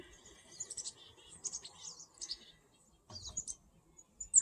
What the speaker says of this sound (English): all the birds that we have here